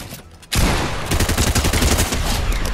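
Rapid bursts of gunfire in the video game Fortnite erupt after a brief quiet start and then keep going as dense, loud, continuous shooting for the rest of the moment.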